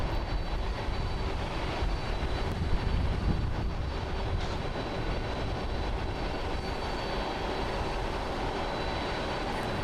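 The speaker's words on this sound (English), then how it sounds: "Got a ANA 777 pushing back flight 55 going to CTS." ANA Boeing 777 pushing back at Haneda Airport, Tokyo, a dense, steady rumble and engine whine with a faint high tone, sustained at moderate loudness with no talk.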